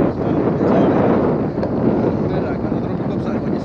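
Strong wind buffets the microphone while fishing, a steady loud broadband roar that never lets up through the clip, with no talking.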